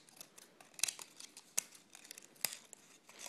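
Scissors trim the jagged edges of a cut plastic water bottle, giving quiet close snips and faint crinkling of thin plastic, with a few sharper clicks in an irregular rhythm.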